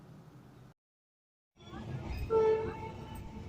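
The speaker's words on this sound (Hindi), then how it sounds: "तो बिल्कुल राइट टाइम 8:30 पर हमारी ट्रेन का यहाँ से डिपार्चर हो चुका है।" The 02233 Suhaildev Superfast passenger train pulls out of Ghazipur City station, a low rumbling roll building after a brief gap, with a sustained horn note sounding over the rising rumble.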